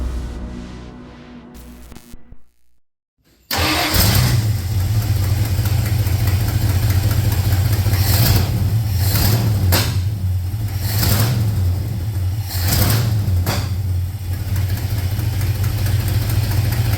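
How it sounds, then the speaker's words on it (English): A 1971 Ford F250 with a carbureted engine cranks briefly, then catches and runs loud and close, settling into a steady rumbling idle broken by several sharp revving blips. "We're going to fire this thing up for the last time on a carburetor and just see what it sounds like"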